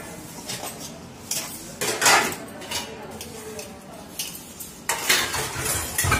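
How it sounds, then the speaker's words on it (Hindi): Dishes and utensils are washed at a kitchen sink, with pots, plates and cutlery clinking and clattering in irregular bursts close by, while a voice talks at times. "यहाँ पे दीदी धो रही है बर्तन, क्योंकि बहुत सारे बर्तन इकट्ठा हो जाते हैं।"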